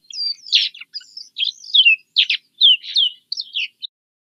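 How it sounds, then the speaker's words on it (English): Small winter birds in northern New York twitter in a lively run of brief high chirps and slurred notes, about a dozen calls in quick succession, clean and free of talk. "Make these little beautiful twittering noises."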